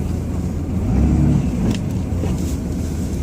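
Ram 2500 diesel pickup truck engine running steadily while plowing a snowy lot during a snowstorm, a loud continuous low rumble with a slight swell near the middle, no talking.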